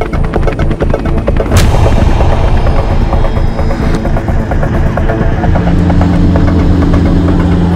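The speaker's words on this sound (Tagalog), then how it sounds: "Nagpalipad sila ng 2 helicopter." China Coast Guard helicopters flying at sea, a loud, close, continuous rotor roar with rapid chopping pulses and no speech.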